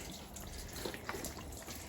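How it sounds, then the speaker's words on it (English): Water rinses dirty soapy suds off a truck, a steady, even hiss of spraying and running water with faint drips, continuous throughout. "And then one just rinses off the dirty soapy water"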